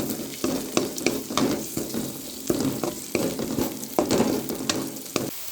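Onion, garlic, ginger and green chili fry in a pan for Tamil chicken kola balls, giving a steady sizzle broken by repeated scraping stir strokes, close and fairly loud with no voices.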